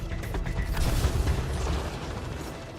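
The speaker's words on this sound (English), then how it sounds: "Let's finish it off with Flak Cannon and Trip Mines." Flak Cannon and Trip Mines firing in Mass Effect: Andromeda combat, a dense continuous roar of booming blasts and mechanical clatter with low rumbling throughout, loud and close.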